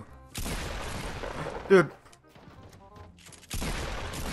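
Gunfire in a Fortnite match bursts in two loud clusters of rapid shots, separated by a quieter stretch where a player speaks briefly over softer game sounds.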